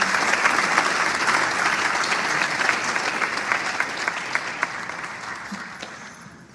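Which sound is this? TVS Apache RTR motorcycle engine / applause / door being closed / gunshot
applause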